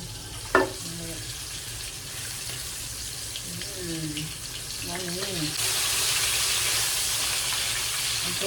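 Steak sizzling and frying in a pan, a steady hiss that grows denser and louder partway through, with a clatter at the start and faint voices in the background.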